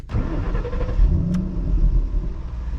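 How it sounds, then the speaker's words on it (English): Ford Mustang Shelby GT500 with a Tremec TR6060 six-speed manual accelerating on the road, a steady loud engine drone swelling as it pulls, heard from inside the car with no talking. "Driving the GT500."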